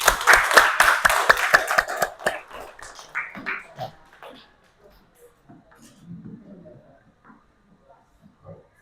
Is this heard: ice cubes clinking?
no